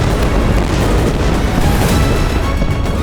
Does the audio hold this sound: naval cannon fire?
yes